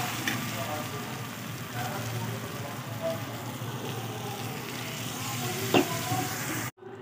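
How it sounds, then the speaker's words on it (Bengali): Hot water poured into a pan of sizzling chicken curry, a steady loud sizzle and bubbling hiss with a brief sharp clatter near the end before it cuts off. "এবার এর মধ্যে আমি জল দিয়ে দেবো।"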